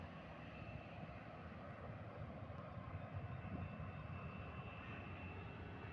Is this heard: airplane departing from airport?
yes